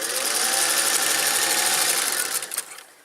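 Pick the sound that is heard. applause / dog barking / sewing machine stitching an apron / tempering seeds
sewing machine stitching an apron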